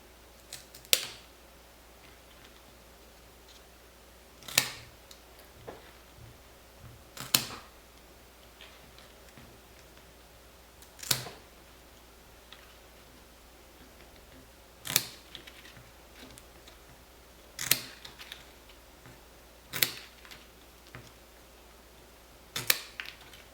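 Scissors snip through basket stakes, trimming them to the outer edge of a closed basket base: sharp, crisp cuts spaced a few seconds apart, close and fairly quiet with no talking.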